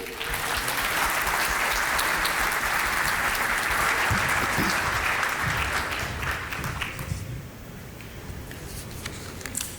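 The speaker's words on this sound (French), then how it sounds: "On peut l'applaudir, bien sûr." An opening-ceremony audience applauds Tunisian head of government Najla Bouden, a broad, steady round of clapping that holds strongly for several seconds, then thins and softens toward the end.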